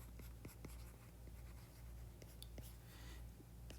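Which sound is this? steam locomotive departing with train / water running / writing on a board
writing on a board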